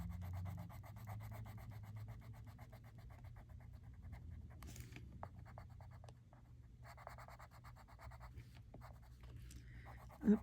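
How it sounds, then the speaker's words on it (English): Colored pencil burnishing a layer of white onto paper, a soft, steady scratchy rubbing in quick up-and-down strokes that runs continuously, close and fairly quiet, with a brief sharper knock at the very end. "Burnishing, trying to stay up and down."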